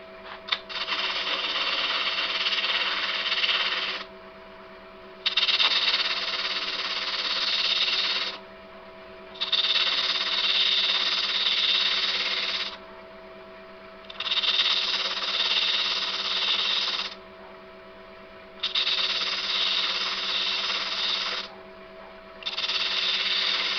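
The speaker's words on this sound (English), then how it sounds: "I'll just get the bottom sanded off." Power sander working the bottom of a hand-turned burr olive ash piece, running in steady bursts of three to four seconds with short pauses between, a close, constant buzzing whine.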